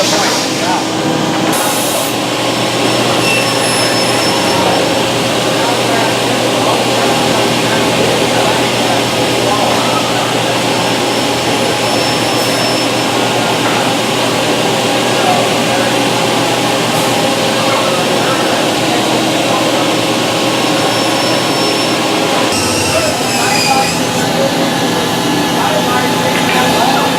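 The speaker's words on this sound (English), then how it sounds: "the machine will miter it and leave this tenon behind" A woodworking tenoning machine mitres a wooden piece to leave a tenon, with a loud, steady mechanical whir and hum throughout and brief shifts in tone, while a voice talks over it.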